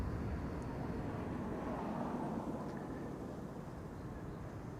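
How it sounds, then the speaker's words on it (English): EasyJet Airbus A320neo departing Amsterdam Schiphol, a steady, distant broadband jet roar that holds level and fades slightly toward the end, with no talking. "The next departure might invoke cramps if you are susceptible to them. EasyJet flight 22516. That's an A320neo."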